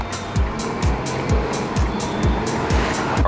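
A small, fully loaded car with a leather interior accelerating on a test drive, its engine rising in a steady drone heard from inside the cabin, with a regular thumping from the road.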